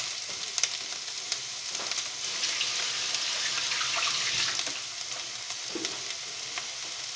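Hake pieces sizzle and crackle in a hot pan, a soft continuous frying hiss with a few small pops and stirring scrapes, fairly quiet and heard alone.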